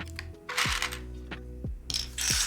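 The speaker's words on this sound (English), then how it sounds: "Pulling out all the wrong keycaps." Several sharp plastic clicks and pops as keycaps are pried off an Ayleen TKL keyboard, spaced irregularly with faint rattling between them.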